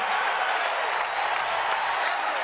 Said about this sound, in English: this sellout crowd in Diddle Arena loves that block by Anderson